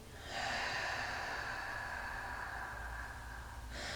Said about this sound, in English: Exhaling completely.